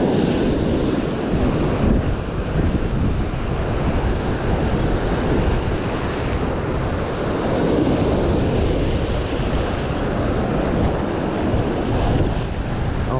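Ocean surf rolls in on a Fuerteventura shore while fishing, a loud, continuous wash of breaking waves mixed with heavy wind buffeting the microphone, with no voices.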